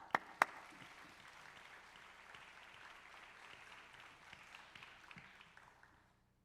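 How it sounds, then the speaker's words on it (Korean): A church congregation claps to welcome a pastor to the pulpit: a fairly soft, steady patter of hands that starts with a couple of sharp claps, carries on evenly for several seconds, then fades out. "평양보다는 박수 소리가 좀 약하네요."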